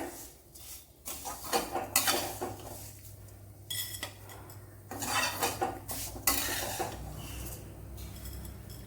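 Fried pieces are scooped out of a pan of hot oil with a metal ladle, giving irregular clinks and scrapes against the pan over a low sizzle, close and moderately quiet, with no talk.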